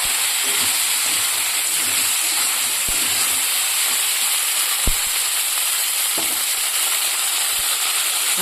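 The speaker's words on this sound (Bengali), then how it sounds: "এই যে কেটে রাখা সবজিগুলো হালকা ফ্রাই করে নেব" Chopped mixed vegetables fry lightly in oil in a wok, a steady, even sizzle and hiss throughout with a few faint knocks from stirring.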